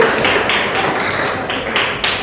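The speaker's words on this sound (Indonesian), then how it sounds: "Beri tepuk tangan untuk jawaban Ibu" A classroom audience applauds, a steady burst of close clapping that carries through the whole moment without talk over it.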